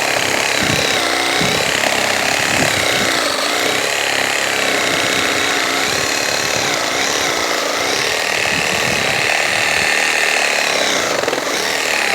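A GardenJoy 21-volt cordless reciprocating saw cuts through a tree branch about an inch and a quarter thick, giving a steady, loud rasping buzz with rough chattering strokes that runs unbroken and close throughout.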